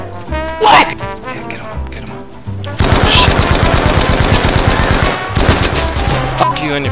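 Automatic weapon fire in Battlefield V multiplayer, loud rapid bursts that build into sustained rattling from about three seconds in, with sharp single shots earlier and players shouting over the gunfire.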